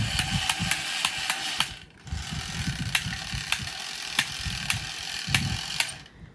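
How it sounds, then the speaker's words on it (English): Awful rhythmic clacking from an Echo Classic G scale model steam engine, sharp regular clicks about twice a second over a low whirring motor, pausing briefly before resuming, close and clear with no talk. "it's making this awful clacking noise that you can probably hear"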